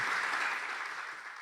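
A church congregation gives a brief burst of applause, a soft, distant wash of many hands clapping that fades slightly toward the end.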